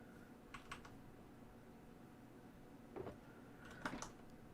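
Faint clacking of a mechanical computer keyboard in two short bursts of keystrokes, separated by a pause, heard quietly in a room during a Minecraft survival game session.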